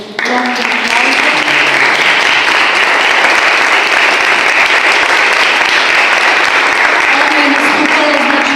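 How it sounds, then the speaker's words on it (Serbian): Loud, sustained audience applause for an opera prima donna at a gala event, a dense roaring wash of clapping that holds steady for several seconds, with faint voices underneath. "molim vas da je pozdravimo jednom gromkim aplauzom"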